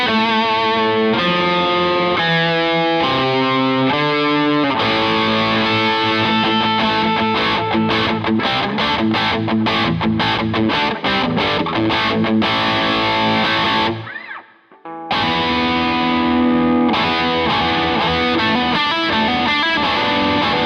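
An electric guitar with humbucker pickups plays through a crunchy classic amp channel, distorted chords and riffs ringing out loud and alone, with a brief drop to near silence before the playing resumes.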